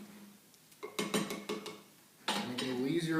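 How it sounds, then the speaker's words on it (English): Cold-brew coffee stirred in a press pot after steeping about 10 to 12 hours, giving a few close clinks and scrapes of a utensil against the pot, then a longer rustling, swishing stretch. "I'm going to give this one a little stir too"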